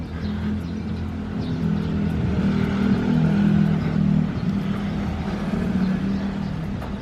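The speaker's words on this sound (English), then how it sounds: "Garbage truck." A garbage truck rolls past on an Angeles City street in the Philippines, its engine a steady low drone that swells in the middle and then fades, with a voice faintly audible underneath.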